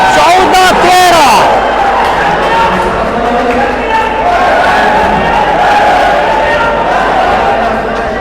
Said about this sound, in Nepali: दर्शकहरूको हुटिङ